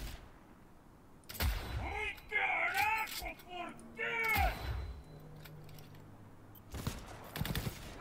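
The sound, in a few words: smart weapon gunfire in video game Cyberpunk 2077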